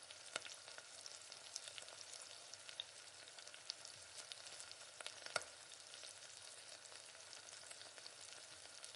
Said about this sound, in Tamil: இப்போ எல்லா பன்னீரும் இந்த மாதிரி வறுத்தாச்சு.